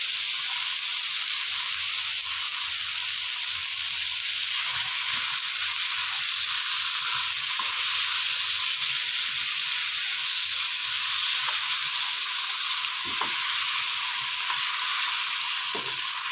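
Chicken and spices frying in a pot over medium flame, a loud, steady, close hiss and sizzle that holds evenly throughout with faint scattered clicks of a spoon, no voices.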